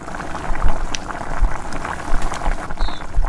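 Ridge gourd simmers in water in a lidded pot, giving a close, steady bubbling crackle dotted with irregular small pops and spatters.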